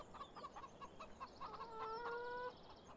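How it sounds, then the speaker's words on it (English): Chickens cluck in the Farming Simulator 17 video game on a farm map, a flock of soft repeated clucks and short calls with a drawn-out tonal call near the end, over a faint ambient background. "There's our chickens."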